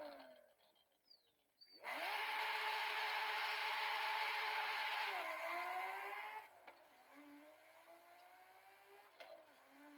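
Toyota Supra engine in the racing game Forza Horizon 5, a loud sustained drone with rising gear tones for about four seconds, then dropping to a quieter idle-like hum.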